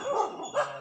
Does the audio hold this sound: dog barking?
yes